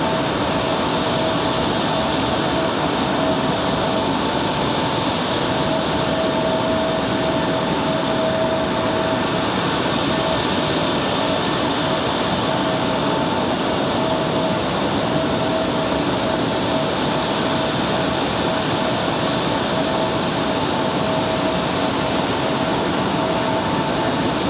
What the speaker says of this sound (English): Going to give us a little turn and burn action out of the A340